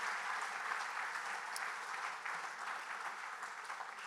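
Audience at the NJSGA Hall of Fame 2022 ceremony giving a final round of applause for the inductees, a sustained, even wash of many hands clapping, fairly distant and soft in a large room.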